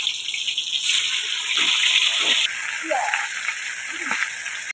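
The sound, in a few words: pangas fish frying in hot oil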